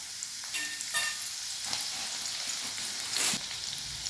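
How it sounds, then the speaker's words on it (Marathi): Finely crushed garlic hits hot oil in a kadhai with a soft, crackling sizzle. A few sharper spatters and stirring scrapes break through, all close and fairly quiet, with nobody talking. "आपण त्याच्यामध्ये बारीक ठेचलेला लसूण टाकूया।"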